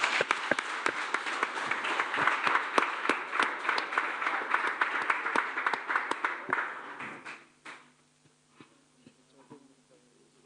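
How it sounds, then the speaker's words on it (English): A youth day church audience stands and applauds as a pastor comes up, dense clapping for about seven seconds before fading into scattered claps and near quiet. "Can we stand up and give him a clap as he comes?"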